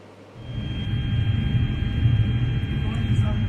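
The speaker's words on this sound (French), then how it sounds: "l'avion ayant à son bord le ministre d'État en charge de l'aménagement du territoire, maître Guy Ndomboyo, a atterri ce samedi 11 décembre à l'aéroport de Mbandaka" A plane carrying a government minister rolls in on landing at Mbandaka airport, a steady broad engine roar with a low rumble that rises after a moment and holds, fairly close and loud.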